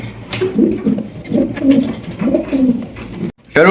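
A red velvet shield pigeon coos loudly and close by in a run of about four deep, rolling coos, then the sound cuts off briefly.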